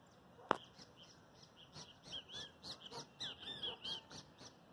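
Faint chirps and short tweeting calls from small birds, scattered and somewhat distant, following a single sharp knock near the start.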